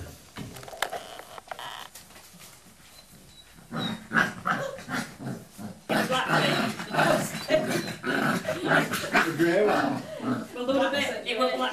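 A dog growls close by at puppies in short rumbling bursts that grow louder and more continuous toward the end, with people talking in between.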